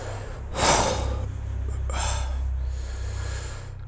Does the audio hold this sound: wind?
no